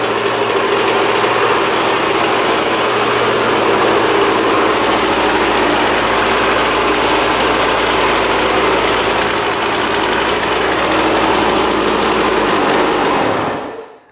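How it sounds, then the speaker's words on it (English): A used $600 dirt bike engine idles steadily just after starting, a loud, close, continuous buzzing rumble that holds evenly for several seconds before cutting off abruptly. "I cannot believe it runs as good as it does. Idles and everything."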